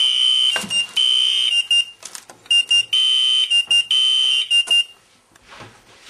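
A fire alarm control panel sounds its alarm: a loud, steady high electronic tone broken into repeated bursts with short gaps, nearby and alone, fading out near the end.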